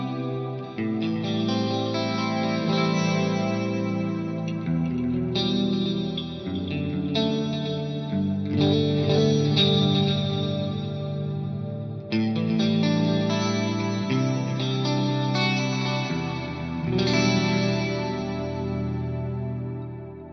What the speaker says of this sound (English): I particularly love it with a big Plex reverb and a multi-delay block for big ambient sound